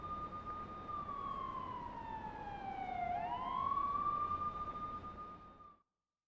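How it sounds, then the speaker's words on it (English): An ambulance siren from the video game Persona 5 Royal wails in a single clear tone that sweeps down and back up, steady and moderately loud, then cuts off abruptly. "Somebody called an ambulance."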